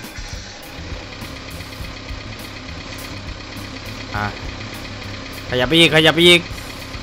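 A Komatsu PC130 excavator engine idles steadily in Farming Simulator 19, a constant mid-pitched drone running throughout, while someone speaks briefly in short bursts over it near the end.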